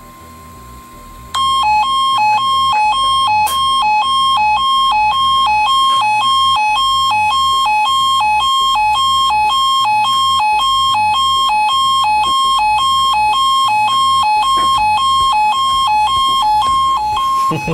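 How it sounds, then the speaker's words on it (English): A Midland ER10VP weather alert radio sounds a loud electronic siren, repeating a steady two-tone beeping pattern in rapid, even pulses, continuing without pause. "So this is the siren on the ER10VP."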